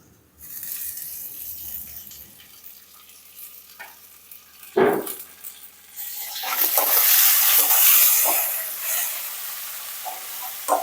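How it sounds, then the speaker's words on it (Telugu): Mint leaves dropped into chicken curry frying in a pan give a sudden sharp thump and then a loud, steady sizzle and crackle that swells and lingers, with stirring scrapes breaking through. "నెక్స్ట్ పుదీనా వేస్తున్నా."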